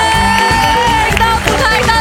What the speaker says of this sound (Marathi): पुन्हा एकदा जोरदार टाळ्या आपल्या संचित गोस्वामी सरांसाठी.